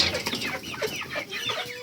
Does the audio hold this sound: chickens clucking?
yes